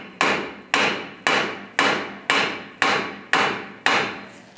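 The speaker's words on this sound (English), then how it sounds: "You can tap it a little more with a hammer." A hammer taps a strut assembly into place on a Volkswagen Beetle in eight evenly spaced, sharp metallic knocks, each ringing out briefly before the next.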